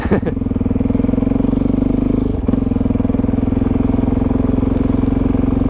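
A 2016 Suzuki DRZ400SM single-cylinder motorcycle engine held at a steady loud throb during a wheelie, with a brief dip in revs partway through, close and continuous.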